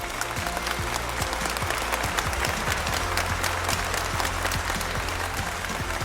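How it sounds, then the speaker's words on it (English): Loud sustained crowd applause for three guests at a talk event, dense continuous clapping with a low hum underneath. "I think these 3 deserve an incredible round of applause"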